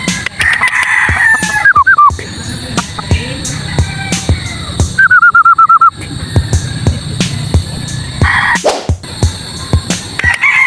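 White Kelso gamefowl stags, seven to ten months old, crow in several loud, close calls spread across the clip, with clucks and sharp knocks in between on a game farm.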